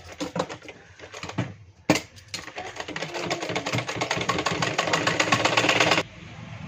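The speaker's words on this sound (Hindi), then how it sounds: "ये कपड़ा है इस साइड मोड़ेंगे हम और इसकी किनारी पे सिलाई लगा देंगे।" A sewing machine stitches the folded hem of a 38-inch blouse, heard as a close, rapid rhythmic whirring that stops briefly and then runs steadily faster for several seconds.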